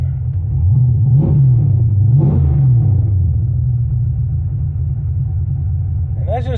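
A carbureted vehicle engine idles steadily after a cold start, a continuous low rumble that holds near and even throughout, with a few faint revving swells early on and a brief higher sound at the very end.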